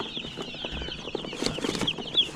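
A box holding about one hundred young meat chickens arrives on a small farm. A constant chorus of high, overlapping peeps fills the space, close and busy, with occasional rustling.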